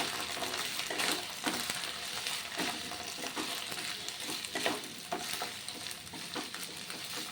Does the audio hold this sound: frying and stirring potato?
yes